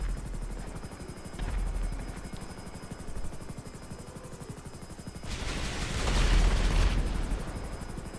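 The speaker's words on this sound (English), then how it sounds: "this helicopter climbs up altitude very quickly" An FH1 Hunter helicopter in GTA Online thrums with a continuous rapid rotor chop, steady and fairly loud, swelling into a denser, harsher burst partway through before settling back.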